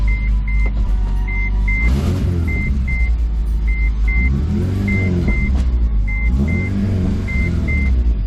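A Honda Civic Si with a suspected slave cylinder fault rolls in first and then second gear, its low engine drone and rumble steady and close, with repeating harmonic swells as it pulls and a faint periodic beep in the background.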